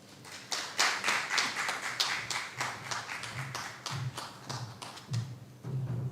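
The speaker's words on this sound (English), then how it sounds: "Let's give Ms. Clemens a bigger round of applause." Applause at a summer course closing ceremony, a modest group clapping with distinct, uneven individual claps and low thumps, close and moderately loud.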